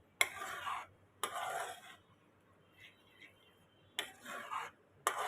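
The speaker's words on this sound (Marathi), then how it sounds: "आता आपण ह्याच्यामध्ये आपले काजू टाकूया आणि मिक्स करून घेऊया." A spoon scrapes and stirs cashews through a curry in a pan. It makes several soft strokes in separate bursts, with quiet pauses between them.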